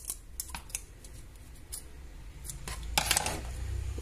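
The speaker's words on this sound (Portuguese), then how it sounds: "Venho, corto a linha." Scissors snip through sewing thread while a hair bow is being made: a series of small, crisp, close-up clicks and cuts, irregular in timing, with faint handling noise between them.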